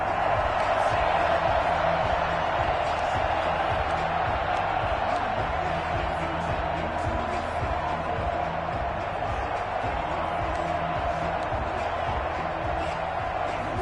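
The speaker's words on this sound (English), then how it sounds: "And this crowd loves it as their guys hold on the opening drive." Simulated stadium crowd in a Madden football video game cheers steadily as the home side holds on the opening drive, a continuous roar with rhythmic thumping and clapping underneath, carrying on for the whole stretch.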